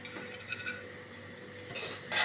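Chicken biryani is dished out from a pot with a metal spoon, soft scrapes and light clinks of utensil against cookware, ending in a louder clatter, close and quiet without speech.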